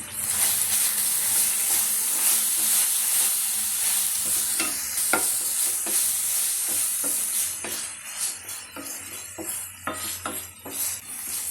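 Spice powder being stirred into mutton sukka masala in a hot pan, a continuous sizzling hiss with repeated scraping strokes of a spoon against the pan, close and loud, no talking.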